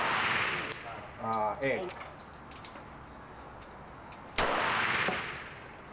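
At a shooting range in Thailand, a loud close gunshot rings out, followed by mechanical clicks and clanks, then a second sharp report with a lingering decay, while a person speaks briefly between shots.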